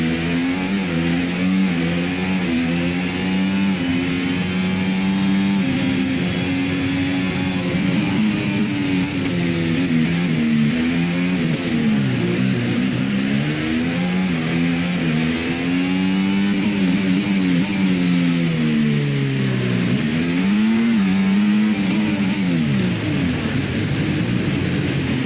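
Red Bull RB20 Formula 1 car in the F1 24 racing game at the Monaco Grand Prix, a loud continuous high-revving engine whine that rises and falls through gear changes and corners across the whole stretch.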